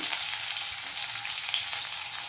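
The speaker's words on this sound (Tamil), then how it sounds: "அது கூடவே நம்ம எடுத்து வச்சுருக்கிற கருவேப்பிலையில் கொஞ்சமாக எடுத்து இதில் சேர்த்துக்கிறேன்" Tomato and curry leaves fry in a pan for chutney, making a continuous bright crackling sizzle that stays close and even from start to finish, with no voices.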